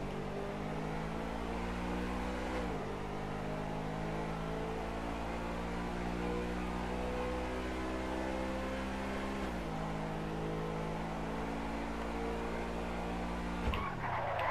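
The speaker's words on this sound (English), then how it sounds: "39 miles an hour just squealing tires" Tires squeal steadily on a car racing down an airstrip in a video game, under a loud, continuous engine drone whose pitch climbs and resets with gear shifts; no talking.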